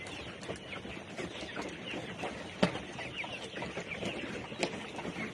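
Chickens clucking steadily in a busy farm setting, with overlapping calls and a couple of sharper squawks standing out.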